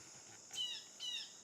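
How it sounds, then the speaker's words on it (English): Birds chirp in tall tree branches, two quick bright calls about half a second apart, moderately close over a hushed outdoor background. "more and more birds come to sing and express something"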